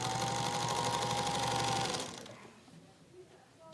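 A Singer Featherweight sewing machine stitches in a fast, steady mechanical rattle for about two seconds, then stops abruptly, leaving quiet room sound with faint handling clicks.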